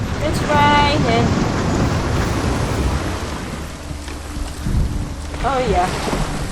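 Heavy rain and gusting wind in the Hellblade: Senua's Sacrifice game, a loud, continuous roaring wash with deep rumbling underneath, and brief voiced sounds breaking through near the start and end.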